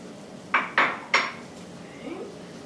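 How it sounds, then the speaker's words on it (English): Frozen peas tumble into a pan of cooked carrots, onions and celery, making three quick rattling clatters close by, followed by a faint brief scrape. "We add our cup of frozen peas."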